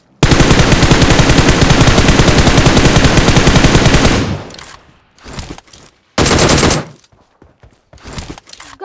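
Rapid automatic gunfire in a video game, a long loud sustained burst of several seconds followed by a few shorter bursts with brief gaps, alone without talk.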